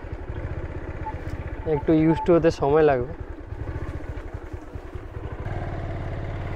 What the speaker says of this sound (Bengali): এখান থেকে আমি বাইক ঘুরিয়ে নিই